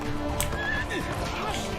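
A horse neighs in the video game Assassin's Creed II, a short loud whinny over busy game sound and hoofbeats.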